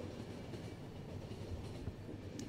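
A train runs in The Final Station, a steady low rumble with faint rhythmic clatter, quiet and continuous with no voices.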